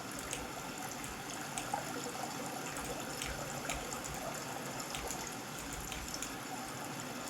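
Steady water rushing and gushing in the video game Sons of the Forest, a continuous broadband flow at even loudness with no pauses and no talk.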